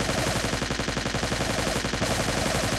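Rapid, repeated gunfire against raptors in the dinosaur video game Trespasser, a steady dense burst of shots running continuously at close range with no talk.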